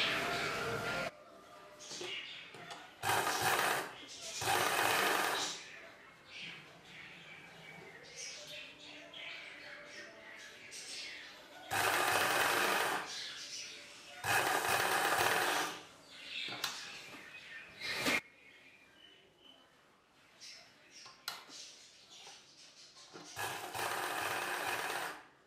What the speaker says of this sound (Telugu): ఇలా ఫోల్డ్ చేసుకొని పైవైపున కుట్టు వేసుకోవాలి